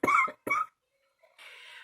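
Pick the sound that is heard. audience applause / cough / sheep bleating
cough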